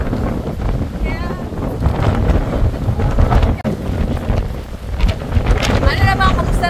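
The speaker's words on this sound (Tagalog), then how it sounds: "Sobrang hangin pala dito." Strong wind buffets the microphone during an open e-trike land tour on Boracay, a constant loud roaring rush with brief gusts and dips, with voices faintly mixed into the noise.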